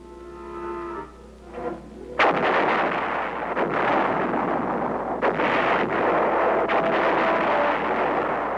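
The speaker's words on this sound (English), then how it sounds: "During the operation, massive artillery was employed." Massive artillery fire in the Vietnam War: a sudden heavy boom opens into a sustained, rumbling roar of distant blasts, with a few sharper reports standing out.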